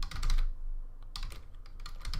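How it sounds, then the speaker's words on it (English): Java code is typed on a computer keyboard in quick, close bursts of clicking keystrokes with one short pause near the start and no talk. "Make sure you type exactly as what I'm typing here for it to work."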